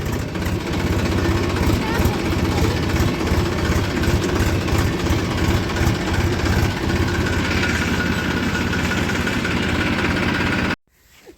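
A tractor engine idling on a sugarcane field during harvest season, a loud steady low rumble with constant vibration that cuts off abruptly near the end.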